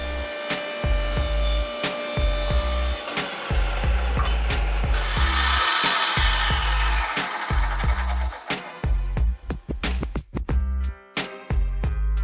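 Small wood pieces for replica vintage Monopoly hotels being sawn by hand, with a run of loud, rhythmic back-and-forth rasping strokes close up and brief pauses.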